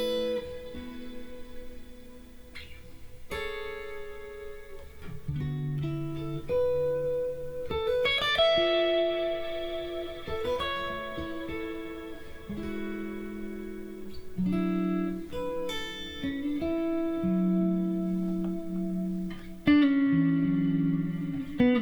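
Electric guitar played through a Fractal FM3 chain of tremolo, amp, cab, delay and Nimbo Stratus reverb, clean sustained chords and single notes ringing out with pulsing tremolo and long echoing tails, no voices.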